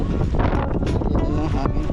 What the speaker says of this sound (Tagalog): May hangin lang po. Hangin po doon.